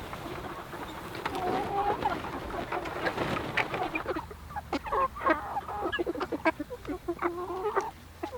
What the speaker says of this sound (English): Our meat birds, we have 30 meat birds here. They're Freedom Rangers